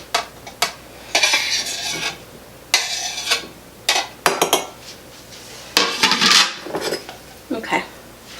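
Dishes, pots and utensils clatter and clink as they are set into a kitchen sink, a series of sharp, close knocks and scrapes in irregular bursts with short pauses between.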